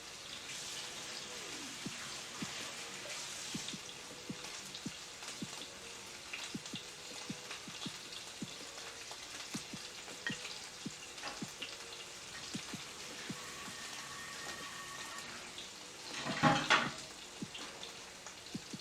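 Steaks sizzling in a hot pan give a steady crackling hiss with dense pops and spits, and a louder burst of sizzle near the end. Nobody speaks over it.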